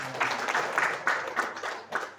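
A small audience at an education office gathering gives brief applause, a few distinct bursts of clapping in an uneven rhythm, fairly close and moderately loud, fading after about two seconds.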